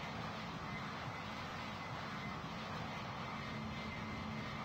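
An aircraft engine drones steadily at a constant level during a takeoff in the flight game PTFS, a dense, even roar with no breaks.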